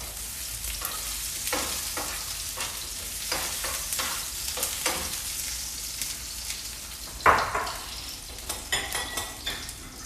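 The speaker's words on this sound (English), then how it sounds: "So now I'm gonna start searing off some of this summer squash." Summer squash searing in a hot pan, a continuous crackling sizzle with repeated stirring and utensil scrapes, a sharper clatter midway and a few knocks toward the end, no talk.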